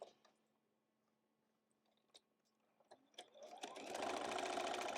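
A sewing machine sews a quarter-inch quilt seam on a nine-patch block: a few soft clicks and handling sounds first, then the motor starts up and runs steadily and fairly loud to the end.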